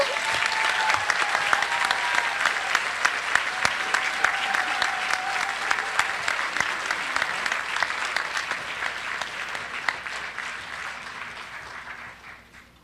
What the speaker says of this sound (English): So how about a round of applause for the amazing class of 2025